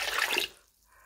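A short splash of water poured into a pot, lasting about half a second before trailing off into quiet.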